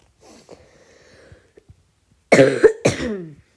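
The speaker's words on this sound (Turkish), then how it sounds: "Arkadaşlar ben bu aralar çok öksürüyorum." Quiet faint sounds, then two harsh, loud coughs in quick succession, close to the listener.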